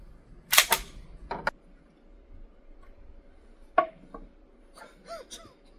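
A Canik TTI Combat 9mm Luger pistol fires at an indoor range, ten meters to target: two loud close reports near the start, then single sharper shots spaced apart with short quiet gaps and a steady faint hum between.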